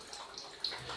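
Water poured onto lime flows by gravity onto oyster mushroom substrate, a soft, steady trickle and splash heard close and alone.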